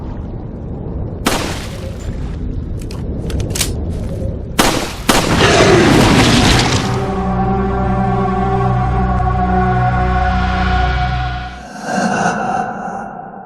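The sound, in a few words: gunshots fired into water in a video game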